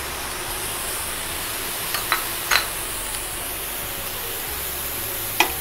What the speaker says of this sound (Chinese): 又擺啲掃火腿落去煎下佢